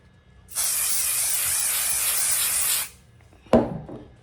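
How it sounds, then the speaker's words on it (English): Adhesive spray from an aerosol can, used while preparing embroidery, hisses in one steady close burst for about two seconds, followed after a pause by a short sharp knock. "now I'm just going to spray some adhesive spray"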